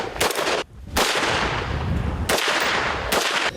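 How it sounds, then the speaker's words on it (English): Several loud gunshots at an outdoor shooting session, sharp blasts each followed by a rolling echo, about three or four reports spaced unevenly. "Here goes a couple shots."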